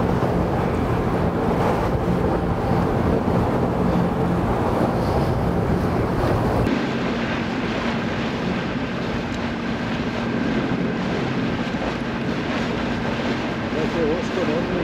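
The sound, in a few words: choppy sea waves and wind on a boat during flood tide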